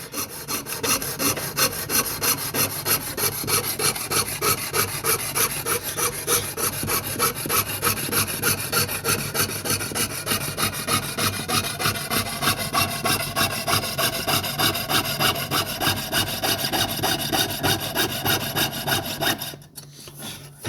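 A hand saw with a frame that visibly bends cuts through wood in steady, rapid back-and-forth strokes, rasping loudly and evenly up close for a long stretch before stopping.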